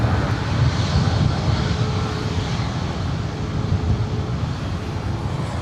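An airplane at LAX airport roars loudly and close, a broad sustained engine rumble holding steady throughout without voices.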